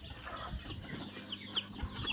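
Village chicks and hens peck at soaked maize feed, giving soft scattered clucks and occasional high chick peeps close by in a quiet shed with light background noise.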